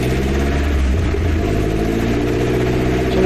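A Nissan Gazelle S110 engine runs up close with a steady, loud, rough mechanical drone that stays continuous and does not settle into a smooth idle.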